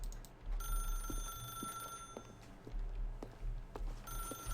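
A telephone rings in the video game Stanley Parable Deluxe as a sustained electronic tone, followed by faint clicks and quiet room ambience.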